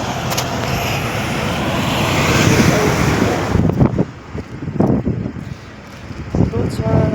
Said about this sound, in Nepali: त्यसै माथि झन् कस्तो हावा चलिरहेछ यहाँ दुबईमा